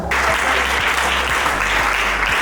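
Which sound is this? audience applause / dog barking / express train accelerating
audience applause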